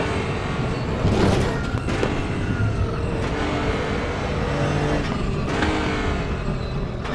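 Nissan GT-R GT3 race car engine at the Nordschleife in RaceRoom, a steady loud drone held throughout with no talk, rising and shifting in pitch around a couple of gear or throttle changes.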